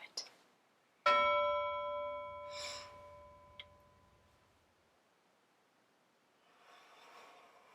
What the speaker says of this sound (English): You're welcome to join me every time you hear a bell.